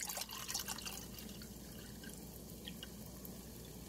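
Spring water poured out in a faint, steady trickle while measuring five cups for a detox tea on a quiet kitchen counter, with no talking.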